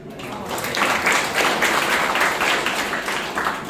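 Audience applause after a comic poem at an engineering college event, a broad wash of clapping that holds steady and fairly loud for the whole stretch.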